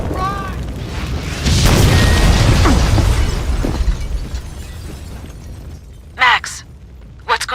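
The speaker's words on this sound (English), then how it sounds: "The building's blowing up." A building packed with explosives blows up in Max Payne 2, a loud sustained roaring blast with rumbling debris that slowly fades, followed by a couple of sharp crashes near the end, with a few shouted voices mixed in.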